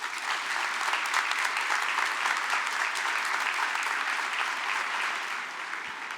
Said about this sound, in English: Please give a warm round of applause to Governor Pritzker.